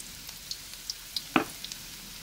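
Chili powder, garlic and shallots stir-frying for a spicy offal and lemongrass dish, making a faint low sizzle broken by a handful of light ticks and one sharper clatter of the spatula, with no talking.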